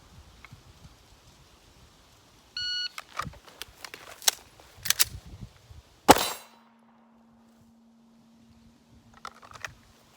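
A shot timer beeps, then a handgun fires a quick string of sharp, loud shots at an outdoor range, followed by a ringing metallic clang and a couple of fainter shots later.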